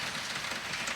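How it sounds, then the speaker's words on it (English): Steady rain falls outside a garage where a 1973 Mercedes 450SL R107 is being worked on, a dense continuous hiss of drops on surfaces with no talk. "Yes, it's still raining, and it's frustrating."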